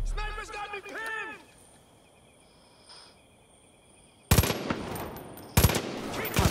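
Two loud, sharp bursts of sniper gunfire in the video game Far Cry 5 crack out near the end, following a stretch of talking and a quiet lull.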